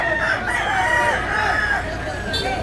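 Rooster crowing at a chicken sale in Consolacion, Cebu, a loud close crow with clucking and background chatter throughout.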